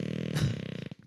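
A voice imitates a fart with a buzzing raspberry about a second long, ending in a short sputter.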